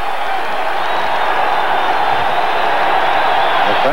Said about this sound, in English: The crowd here at Montana State coming to their feet to cheer their defense